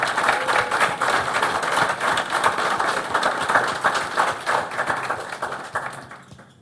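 A school board meeting audience applauds the South High Unified Track Team with steady, lively clapping that fades out near the end.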